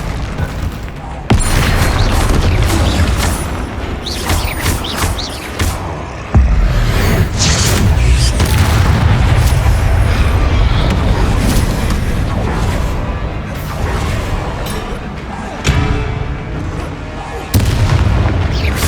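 Confringo spell explosions in the video game Hogwarts Legacy, a dense barrage of loud booming blasts and crackling bursts that continues almost without a break, with short pauses between volleys and a shouted game voice.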